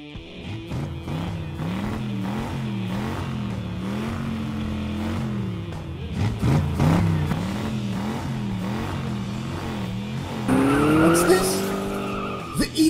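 Cartoon monster truck engine revving in wavering, rising surges, with tire skids and squeals building toward a loud burst near the end, layered with music and effects.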